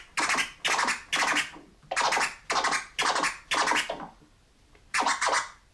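A DJ rasp scratch on a turntable, made by flicking the wrist: seven loud, close, rhythmic bursts of rasping scratch in quick succession, a brief pause, then one more burst.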